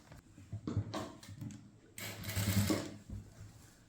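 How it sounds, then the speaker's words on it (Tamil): A tailor's sewing machine stitches an A-line kurti top in close, loud, uneven bursts of rapid mechanical whirring with short pauses between runs and no talking. "இப்போ இங்கேருந்து தையல் போட ஆரம்பிக்கலாம்"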